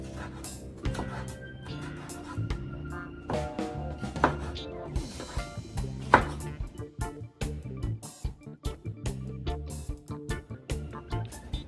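A knife chops conch meat into big chunky slices for Jamaican curry conch, giving a run of sharp, uneven thunks against a board, close and moderately loud, with rustling between cuts.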